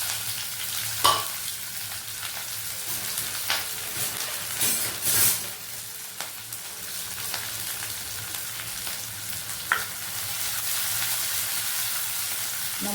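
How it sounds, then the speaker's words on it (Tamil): Small onions, green chilies and curry leaves sautéing in a pan for a meal maker sukka, a steady close sizzle and crackle throughout, with occasional louder clatters of stirring. "வெங்காயத்தை, பச்சை மிளகாய், கருவேப்பிலை எல்லாம் வதங்கிட்டேன்"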